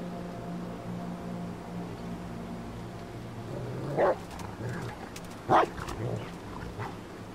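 Dogs in the Die Young survival game, set around a refinery: two sharp, fairly close barks a moment apart over a low, steady background ambience.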